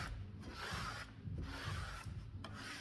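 A sponge wipes excess paint back across a stencil in steady rubbing strokes, close and moderately loud, with three longer swipes separated by brief pauses and no talking.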